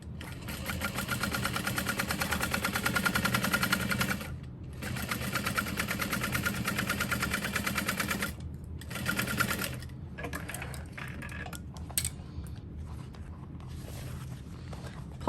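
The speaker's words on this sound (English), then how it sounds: "we're going to sew along the top edge using a 3/8 inch seam allowance" A sewing machine stitches along the top edge of a fabric backpack at a 3/8 inch seam allowance, running close and steady in a fast rhythmic hum with several brief pauses and restarts.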